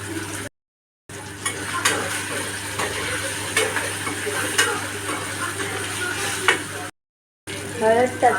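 A pinch of asafoetida sizzles in hot oil in a home kitchen, a steady low frying hiss throughout with faint clinks of a utensil, broken by two short gaps of silence.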